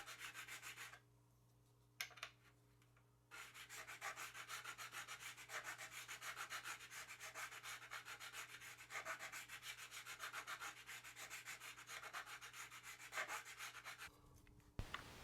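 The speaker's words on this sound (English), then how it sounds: "as I'm filing with this StewMac Z file" Steady rasping strokes of a StewMac Z file crowning electric guitar frets, a fast continuous scraping rhythm that runs close and fairly loud for most of the stretch, with a brief quieter gap near the start.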